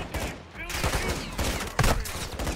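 Gunfire from the video game Call of Duty Modern Warfare 2 rattles in loud, rapid bursts with sharp individual cracks, and voices speak over the shooting.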